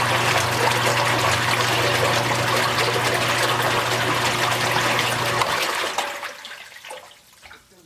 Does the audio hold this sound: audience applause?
no